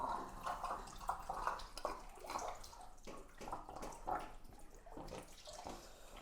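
Water trickles and gurgles continuously as a fish tank siphon keeps draining from a big aquarium during a water change, with uneven splashy bursts throughout and no talking.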